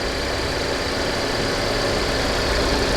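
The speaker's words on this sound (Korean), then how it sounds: "차는 뭐 새 엔진 소리 그대로네" A 2020 Genesis G70's four-cylinder engine idles steadily with a low, even rumble that holds constant throughout, with no voices.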